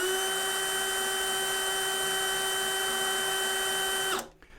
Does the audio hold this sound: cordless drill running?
yes